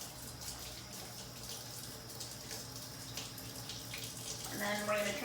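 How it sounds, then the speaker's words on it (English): Tap water runs from a faucet while surgical instruments are rinsed and gently brushed beneath it, a steady splashing stream that grows louder near the end. "we'll put them under the running faucet, and we'll kind of brush them gently"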